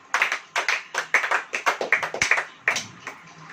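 An audience claps hands at a church sermon, with about a dozen sharp, distinct claps in a steady rhythm, close and loud, with no talking over them.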